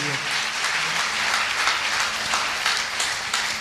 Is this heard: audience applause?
yes